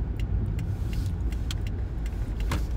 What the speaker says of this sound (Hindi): यहाँ रोक लेती हूँ गाड़ी,